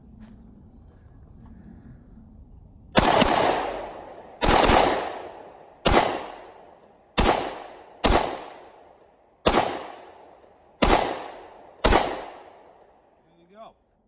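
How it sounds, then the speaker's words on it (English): A Gen 2 Glock 20 10mm pistol fired in a quick mag dump outdoors: eight sharp, loud shots at a steady, slightly uneven pace, each trailing off in a ringing echo over quiet surroundings. "we're gonna do one more mag dump about this"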